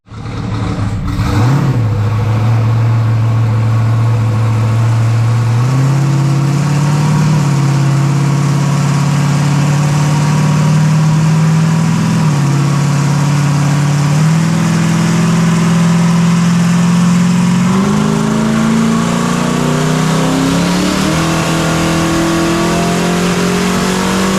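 A Camaro drag car engine roars at full load on dyno rollers, loud and continuous, climbing in pitch through several stepped gear-like rises after a brief rev at the start.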